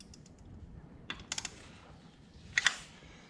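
A few faint, sharp metallic clicks from a torque wrench on a Harley Davidson Tri Glide's breather screws, short clusters of ticks in a quiet space.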